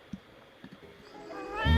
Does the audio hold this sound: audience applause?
no